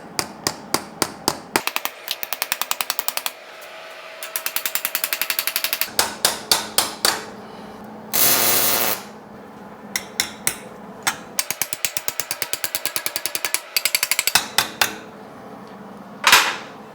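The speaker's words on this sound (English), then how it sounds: "I'm just going to kind of hammer that down into there." Loud, close hammering on metal while fitting billet-style hood hinges on a GTO, in rapid bursts of repeated strikes, broken by short pauses and one longer harsh grinding burst midway.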